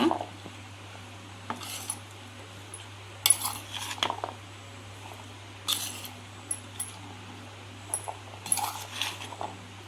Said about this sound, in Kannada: ಈಗ ಸರಿಯಾಗಿ ಮಿಕ್ಸ್ ಮಾಡುವ.